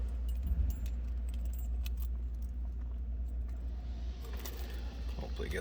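Keys jangle and clink while the right car key is picked out for a 1965 Oldsmobile Cutlass Convertible, a close, faint metallic rattling in scattered bursts over a steady low background.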